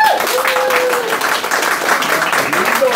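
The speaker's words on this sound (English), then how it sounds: "everyone clap if you want them to win" An office talent-show audience claps to vote for a contestant, a dense, loud burst of applause that carries steadily throughout, with cheering and voices mixed in.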